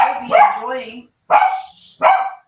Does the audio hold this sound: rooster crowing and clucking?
no